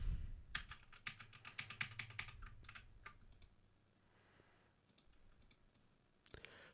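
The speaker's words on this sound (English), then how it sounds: "Do you guys even hear my keyboard while I type?" Rapid, close typing on a computer keyboard comes in bursts of crisp clacks, dense at first, then thinning into sparse taps and a few final keystrokes.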